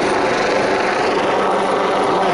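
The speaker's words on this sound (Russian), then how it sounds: "Надо мной завис вертолет. Видите, вертолет завис." A police helicopter hovers overhead above a beach during a water search, its rotor and engine producing a constant, loud, broadband drone with no speech.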